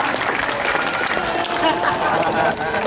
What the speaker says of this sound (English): give Marlena a great big round of applause